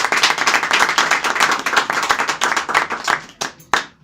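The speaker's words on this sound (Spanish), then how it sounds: "Yo pido un aplauso para él" An audience at a memorial gathering for a late neighbourhood activist claps, a dense round of applause from a crowd nearby that holds steady for about three seconds and then thins to a few scattered claps.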